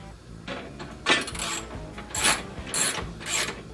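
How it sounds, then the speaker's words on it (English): Socket wrench ratcheting to tighten the leg bolts on a pinball machine, a series of close rasping clicks and metallic turns in uneven bursts, with no talking. "Now I pull out my socket and finish the job"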